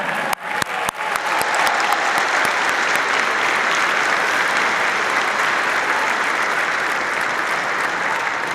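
A convocation audience at the 2022 Saskatchewan Polytechnic Moose Jaw ceremony applauds the graduates, opening with a few sharp individual claps that quickly swell into sustained, full, even applause.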